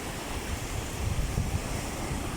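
Heavy ocean surf pounds against rocks in rough, dangerous conditions, a continuous loud roar of breaking water with gusty wind noise and a swell peaking near the middle.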